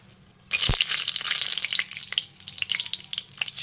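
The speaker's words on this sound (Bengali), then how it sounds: "তেলটা গরম হয়েছে, এবার দিব এই যে গরম মশলা," Whole garam masala spices and dried red chilies hit hot oil for a Bengali ghugni tempering, bursting into a loud sudden sizzle with a sharp crackle at the start, then steady spitting and popping close by.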